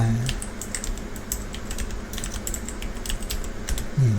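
Fingers type on a computer keyboard while a book title is entered in the Sigil e-book editor, producing quick, close, irregular key clicks in short bursts.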